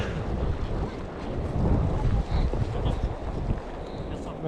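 Wind roars during a snowstorm at Scheveningen on a mountain-bike ride, a steady, close buffeting rumble that gusts stronger midway and stays continuous throughout.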